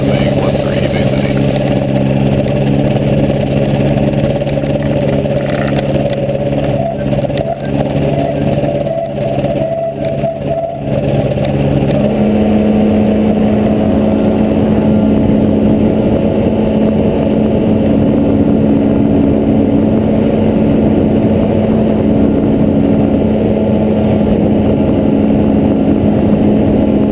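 A flight support trike's engine drones loudly and steadily while it back taxis on a runway, with a continuous close hum, shifting tones and wind buffeting throughout.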